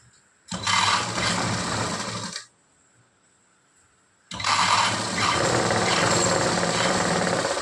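Sewing machine stitching tucks on a blouse, running in two steady mechanical bursts of about two seconds and three seconds with a short quiet pause between, close and loud with no talking.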